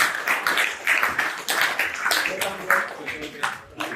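Audience claps at a rites-of-passage graduation ceremony, a lively scattered applause with distinct hand claps, mixed with voices and crowd chatter.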